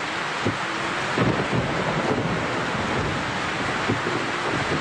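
A stormy night in a Telugu movie scene, with heavy rain and thunder forming a dense, steady roar that swells slightly at moments, no voices.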